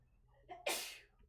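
A single sharp sneeze, with a short intake of breath just before it and a breathy burst that fades quickly, heard close up against faint background hum.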